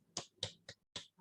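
Sharp claps, four or five in an uneven loose sequence, close and fairly loud with short silent gaps between them, ending a guided meditation session.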